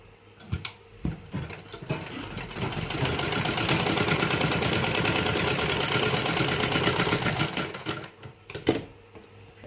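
A sewing machine stitches blouse fabric in a sustained, even mechanical whir lasting several seconds. A few sharp clicks and handling knocks come before and after the run.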